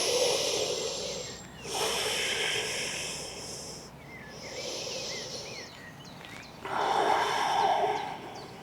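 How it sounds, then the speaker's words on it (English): Slow, deep yoga breaths during a humble warrior pose, three long airy inhales and exhales alternating in a steady rhythm, close and breathy with hissing air, nobody speaking. "3 long breaths here."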